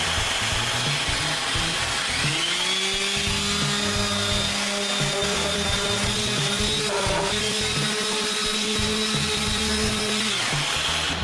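A power sander whirs steadily through the final sanding of a handmade wooden clock, a loud continuous motor whine with a gritty rasp against the wood that holds for over ten seconds, with no talking.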